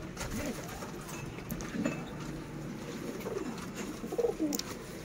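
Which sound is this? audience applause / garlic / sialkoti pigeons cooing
sialkoti pigeons cooing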